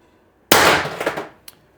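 A single sharp report from a BP50 .50 caliber rifle firing an LLB Vindicator round through a tuning barrel, loud and close, with a decaying ringing tail and a faint brief echo about a second later.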